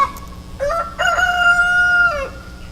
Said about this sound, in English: one of my chickens sounds like she's laying an egg, and the rooster's getting fired up